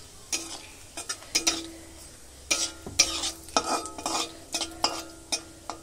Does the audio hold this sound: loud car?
no